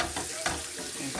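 Onions and broken Maggi cube fry in a pot with a steady, close hiss of sizzling oil and occasional stirring scrapes, briefly and without any talk.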